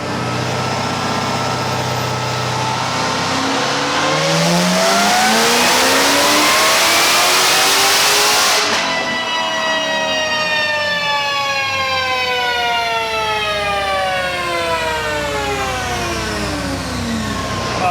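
A C6 Corvette ZR1 engine on a dyno roars alone, loud and close, climbing steadily in pitch through a sustained high-rev pull, then dropping as the throttle closes and winding down over several seconds.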